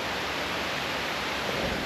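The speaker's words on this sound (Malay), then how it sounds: "Tak nampak apa-apa sebab hujan lebat." Heavy rain pours down at a viewpoint near Samet Nangshe, a dense, constant hiss of falling water that fills the air without pause.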